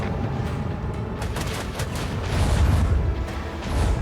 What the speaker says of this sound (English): I need to hit with the port side cannon